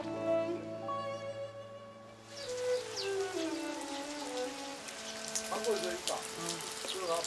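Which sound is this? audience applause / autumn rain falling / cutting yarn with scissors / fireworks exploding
autumn rain falling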